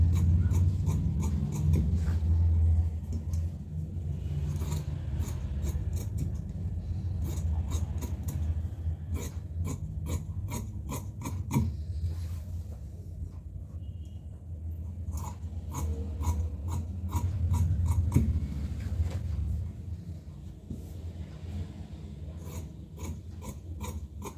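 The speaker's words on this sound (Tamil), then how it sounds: "முதல்ல நெக்கு கட் பண்ணுறேன்." Scissors snip and rasp through blouse fabric to cut out the neckline, with repeated short cutting strokes over a steady low background hum.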